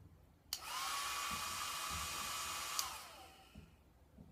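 A hair dryer switches on with a click and blows steadily at close range for about two seconds, then cuts off and winds down.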